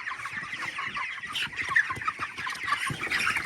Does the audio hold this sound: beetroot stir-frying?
no